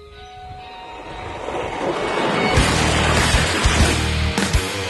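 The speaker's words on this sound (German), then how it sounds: "Diese U-Bahn war gebaut für die Olympischen Spiele. Direkt danach war der Krieg." Sarajevo subway train built for the Olympics, a steady rising rumble with rhythmic clacks of wheels over rail joints in the second half, fairly loud and close with no talk.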